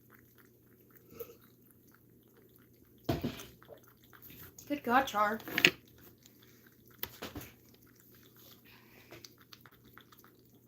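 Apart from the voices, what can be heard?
Charlie drinking water in front of the camera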